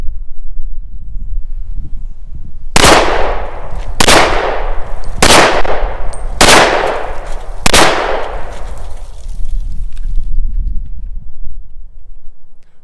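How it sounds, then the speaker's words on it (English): Five loud, sharp pistol shots from a Metro Arms American Classic AC2 firing .38 Super rounds crack out at steady intervals of just over a second, each followed by a ringing decay, with quiet outdoor background between them. "We're going to face them down with the AC2 pistol and our 38 Super ammunition"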